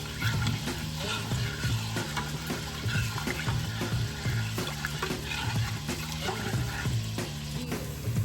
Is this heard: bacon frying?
yes